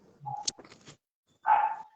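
A neighbour's dog barks in two short bursts, a few yelps and whimpers then a louder bark, fairly close and alone with no talk.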